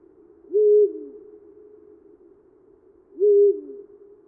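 A Eurasian eagle owl gives two deep, clear hoots about two and a half seconds apart, each short and resonant against a quiet background.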